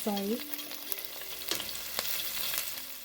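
Saltfish drops into a hot pan with garlic and fries, a steady close sizzle broken by scraping stirs and a few sharp clinks of utensil on metal.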